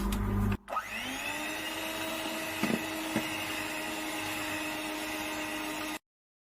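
Flour being mixed into red velvet cake batter with a motorized whir that starts after a brief bump, holds steady and close with a couple of faint knocks, then cuts off abruptly.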